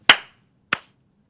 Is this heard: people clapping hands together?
yes